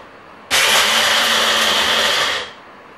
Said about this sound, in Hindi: उससे पहले ये मूँगफली थोड़ी सी क्रश कर लेते हैं मोटी मोटी।